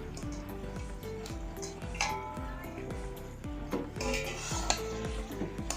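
Chicken being stirred into fried masala in a cooking pot, with a steady scraping of the utensil against the metal and a soft sizzle underneath. The scrapes repeat in a rough rhythm, close and moderately loud, with no talking.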